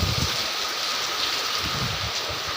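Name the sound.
heavy rain with strong wind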